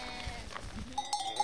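Sheep in a huge arid desert bleat faintly at a distance, a few brief calls over a low background hum and rustle.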